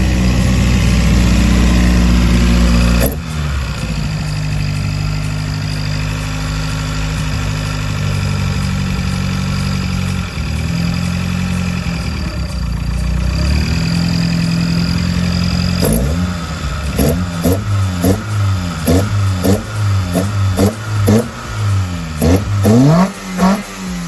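A 20-valve car engine with freshly refreshed throttles and a small exhaust leak fires up close by, settles into a rough, steady idle, then is blipped repeatedly in sharp revs toward the end.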